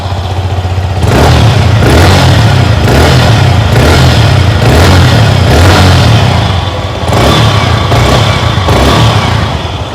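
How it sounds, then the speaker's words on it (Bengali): A 2024 Yamaha MT-15 V2 motorcycle idles and revs close by, its exhaust giving a loud, steady engine drone that swells in several rhythmic surges over ten seconds, with no talking. "চলুন এবারের এক্সস্টার সাউন্ড একবার শোনা যাক"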